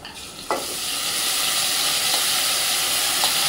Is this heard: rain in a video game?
no